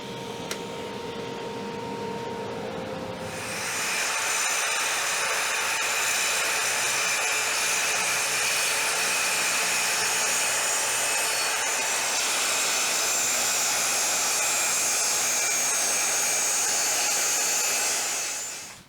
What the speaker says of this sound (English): I will trim it off on the table saw to the exact height that I need